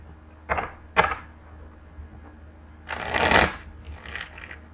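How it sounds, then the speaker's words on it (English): Tarot cards being shuffled in quick riffles, two short bursts followed by a longer fluttering shuffle, close and crisp in a quiet room. "One more shuffle."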